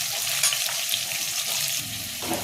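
Chopped onions sizzle in hot oil in a pan already holding fried potatoes, cooked for Bengali-style ghugni. The frying is a steady, close crackle with stirring scrapes throughout.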